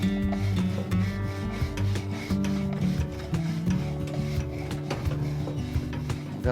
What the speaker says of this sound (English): I'm gonna oil that grill up a little bit so we're not welding, we're cooking.